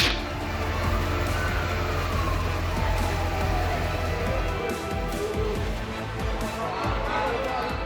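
Fire engine sirens wail with rising and falling tones at a shoe factory fire in Semarang, sounding over steady street and engine noise with some background voices.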